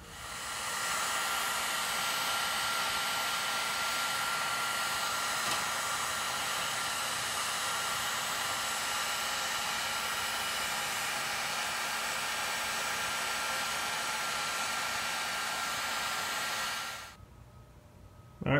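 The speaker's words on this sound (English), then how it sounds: "We're going to heat this up and fold it the opposite direction." A heat gun blows steadily on a panel being heated to fold a bend for a DIY rear diffuser, a continuous close airy roar lasting about seventeen seconds before cutting off.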